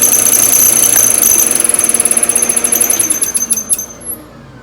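A spiral router bit plunges into wood to cut a mortise, giving a loud, steady high whine that turns into rapid pulsing bursts and then winds down near the end.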